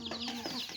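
Backyard chickens cluck in short repeated calls, close by and moderately quiet, over a brief moment.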